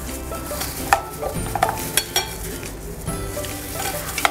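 Spoon stirring spice masala into a thick okra batter in a bowl, a run of soft wet scrapes and occasional clinks against the side, close and clear with no talk.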